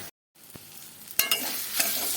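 Banana flower paste frying in mustard oil in a pan, a steady close sizzle broken by a few sharp stirring scrapes, with no one speaking.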